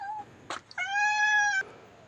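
A temple cat gives a single clear drawn-out meow, preceded by a soft short mew, close and loud against a quiet background.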